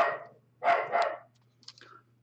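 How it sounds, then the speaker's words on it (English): Two or three dogs bark in loud, close bursts, a couple of sharp barks early and a double bark in the middle, then softer yips fading at the end over a low steady hum. "for the sake of not hearing any more barking"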